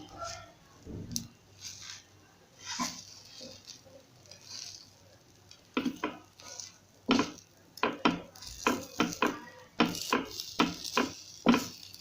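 Tawa idli pieces stirred and tossed in a pan on a low stove, a spoon scraping and clattering against the metal in quick irregular bursts that grow busier toward the end, with faint sizzling beneath.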